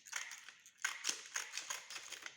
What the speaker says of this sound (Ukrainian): Беремо ножиці і ріжемо по прямій, отак от.